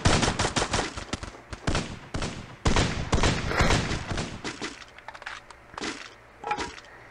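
Gunfire in the mobile battle royale game Free Fire: rapid cracking bursts of automatic shots crowd the first half, then a few scattered single shots follow after quieter gaps.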